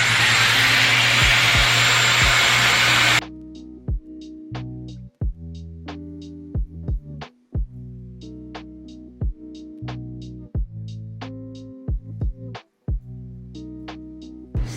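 A Dyson Airwrap hair styler blows at its highest heat and airflow setting with a loud, steady whooshing roar that lasts about three seconds and then stops abruptly, followed by unrelated music.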